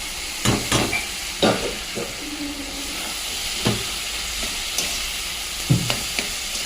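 Banana flower and boiled chickpeas stirred in a hot pan: a spatula scrapes and knocks in irregular strokes over a steady sizzle, loud and close with no talking.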